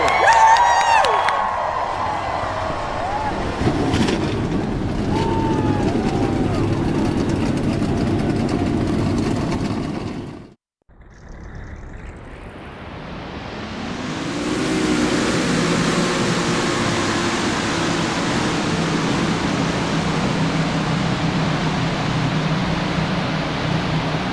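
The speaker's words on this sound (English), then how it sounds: "Drivers, Start your engines!" Race car engines rumble loudly in NR2003 as the Coca-Cola 600 field starts up, a steady heavy drone that cuts out briefly, then swells back to a dense, sustained engine roar.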